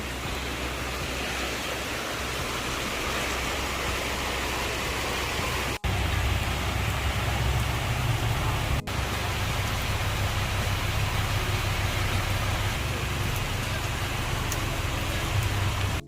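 Heavy rain pouring down in the late afternoon, a loud, dense, unbroken roar of falling water with a deep rumble underneath, close and constant throughout.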